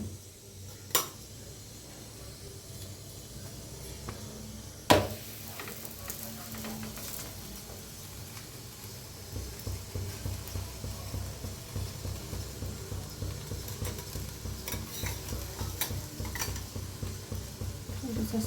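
Puran poli flatbread roasts on a hot griddle, with a low continuous sizzle, two sharp knocks early on, then a steadier pulsing hiss of cooking in the later part.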